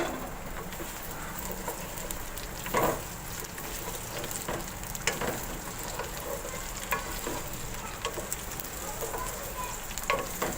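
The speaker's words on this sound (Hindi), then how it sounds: "ये मैंने ऑयल लिया है, अब मैं इसमें डालूँगी भिंडियाँ" Okra frying in hot oil in a pan for a dhaba-style bhindi gosht, a steady low sizzle with occasional pops and stirring scrapes, faint birds chirping in the background.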